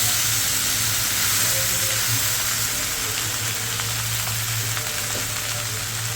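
Vegetable rice and pulao frying in turmeric-tinted oil in a pan gives a steady, loud, close sizzle with a low hum underneath, continuous throughout and with no talk.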